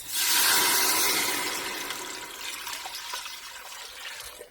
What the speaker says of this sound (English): I'm going to add in about 6 cups of water to this.